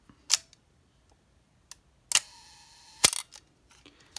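A Nikon FTN film camera shutter fires at slow speeds, giving sharp close clicks, with one exposure where the shutter stays open for a beat with a faint whine before snapping shut, alone in a quiet room.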